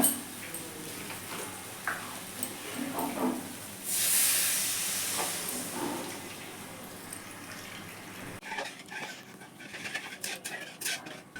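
Water hits a frying spice paste for tuna fish curry, giving a loud burst of hissing steam midway amid sizzling and scraping, then fading to softer bubbling and clatter, close by with no talk.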